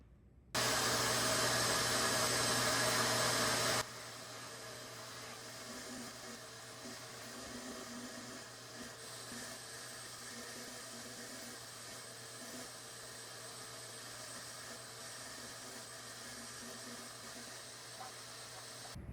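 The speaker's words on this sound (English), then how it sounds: "Now let's vacuum up the residue and see if that second pass will be our last." A vacuum cleaner hums steadily as it sucks dried cleaning residue off a stained mattress. A louder burst at the start drops to a continuous, fairly quiet drone, with no speech.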